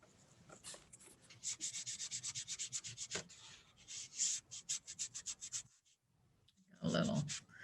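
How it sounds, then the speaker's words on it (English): Fingers rubbing paint splatter off a watercolor painting on paper, close and quiet, in quick rhythmic bursts of short scrubbing strokes separated by brief pauses. "I'm just trying to rub it off."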